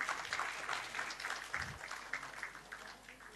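Applause from the audience at a student parliament event in Jharkhand, a dense, even patter of clapping filling the room at moderate level, with a brief low thump partway through.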